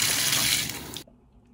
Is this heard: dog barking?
no